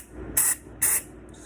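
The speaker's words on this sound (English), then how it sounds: "Then I just spray it. Some of this Hobbs Gun Medic." Two quick, close hissing bursts of Hobbs Gun Medic cleaner sprayed onto a pistol, each lasting about a fifth of a second, with no talk.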